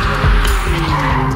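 A McLaren Artura hybrid supercar sliding with its tires skidding, a short loud squeal over a roaring engine, heard close.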